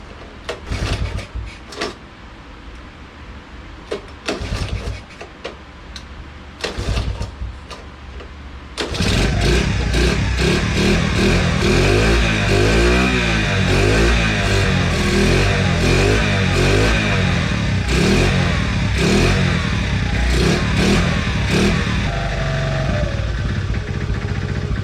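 Honda ATC70 three-wheeler engine on choke: a few quiet knocks and attempts, then it fires and runs loud and close, revving up and down unevenly with a rough, popping note.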